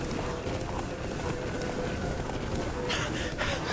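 Hooves of Geralt's horse Roach gallop at speed in The Witcher 3, a steady rapid clip-clop drumming close by over a dense wash of wind and ambient game noise, with a brief sharper burst near the end.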